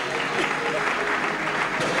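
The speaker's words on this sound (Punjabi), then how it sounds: "ਤਾਲੀਆਂ ਬਜਵਾ ਦੇਤੇ ਹੈ ਆਪਕੇ ਸੱਚ ਕੇ ਲਈ" An audience at a televised literary talk show breaks into dense, continuous applause, a steady wash of many hands clapping with no pauses.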